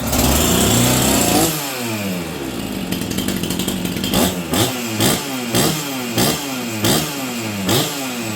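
Old chainsaw bought at auction and flooded, starting up and running: a loud, steady engine drone opens, then settles into a rhythmic pattern of repeated revving pulses that rise and fall about every half second, with no talk.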